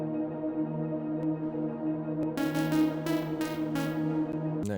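Layered synth atmosphere pads form a sustained, droning drum and bass intro, steady tones holding throughout with brighter shimmering swells entering about halfway and pulsing in several bursts, heard alone.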